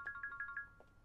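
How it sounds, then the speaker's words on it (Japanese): A cellphone rings in an anime scene, a repeating electronic ringtone of short tonal bursts in a steady rhythm, moderately quiet against a soft background. "そっち電話鳴ってますよ。"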